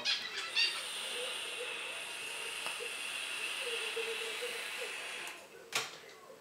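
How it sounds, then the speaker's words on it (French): A rebuildable dripper e-cigarette fires at 37 watts, giving a steady, faint hiss of vapor for several seconds with a soft crackle. The hiss ends in a brief exhale-like puff. "Donc là, je suis sur 37 watts, le test vapeur."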